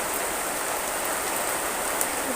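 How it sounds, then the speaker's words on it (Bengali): Heavy rain pours down steadily and loudly over a village cowshed, a dense, unbroken hiss of drops hitting surfaces with no pauses. "বুঝতে পারছেন কি পরিমাণ বৃষ্টি চলে এসেছে।"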